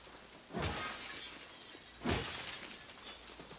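Glass shatters twice in the video game The Last of Us Part 2, each break a bright, crashing burst followed by tinkling debris, the second about a second and a half after the first, moderately close with no speech.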